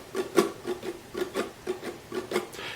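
Ukulele strummed steadily down and up with fingers resting across the strings to mute them, producing soft, dry, percussive scratchy chops in an even rhythm, close and fairly quiet with no voice.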